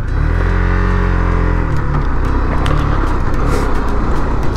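Motorcycle on a mountain road near Chopta, engine note dropping away early as it rolls downhill in neutral, leaving loud, rushing wind and road noise close to the mic.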